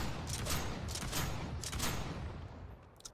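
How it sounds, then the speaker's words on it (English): An auto shotgun in the video game Revulsion fires several rapid, loud blasts in quick succession, each a broad crackling burst, tapering off with one short final shot. "Here's the auto shotgun"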